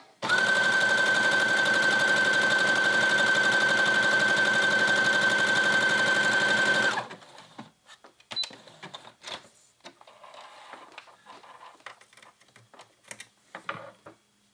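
A sewing machine sewing knit fabric with a wide stitch runs loud and steady for about seven seconds with a rapid mechanical rattle and a high whine, then stops, leaving scattered handling clicks and taps.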